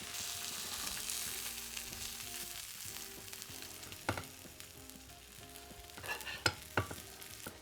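Salmon fillet sizzling and frying steadily in a hot pan, a continuous close crackle with a few sharper pops and stirring clatters near the end.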